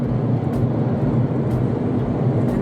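A helicopter flies over a road closed after a crash where ambulances have gathered, giving a steady, loud rumbling drone with faint periodic beats and no voices.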